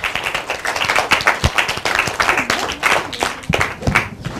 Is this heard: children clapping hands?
yes